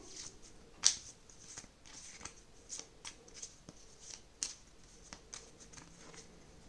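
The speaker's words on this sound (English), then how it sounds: "The cards are finished again. So we have to shuffle them." Soft, quiet riffling and snapping of playing cards being shuffled for a solo tabletop card game, in short irregular bursts with small flicks and pauses between them.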